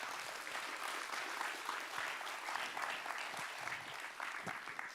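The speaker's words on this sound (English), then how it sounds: "go ahead and clap for those four" Audience at a climate week opening ceremony applauding award nominees: continuous crowd clapping, fairly distant and moderate in level, with a few louder nearby claps, fading slightly at the end.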